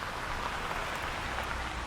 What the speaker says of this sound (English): As the rain grows heavier